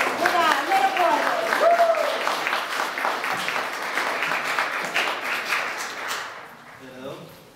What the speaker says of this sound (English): Idan Levin, put a little applause.